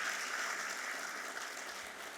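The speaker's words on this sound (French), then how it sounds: "Oui, on peut s'applaudir bien," Audience at a seminar for health guides applauding, a continuous even wash of distant, fairly soft clapping lasting a couple of seconds.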